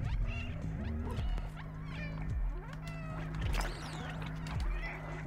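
A cat meows inside the video game Stray, heard over a dense, busy game soundscape with music and effects; the meows are brief and mixed into the surrounding layers rather than standing alone.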